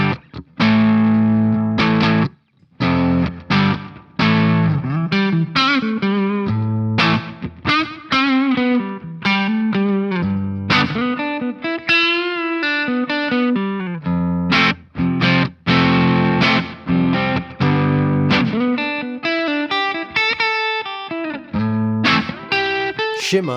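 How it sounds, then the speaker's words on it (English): Electric guitar played through a reverb pedal set as a short delay, with a distorted, chorused tone; continuous chords and single notes ring with short repeats and a reverb tail throughout, loud and alone. "It works well as a short delay, and the added reverb gives it a fairly distinct flavour."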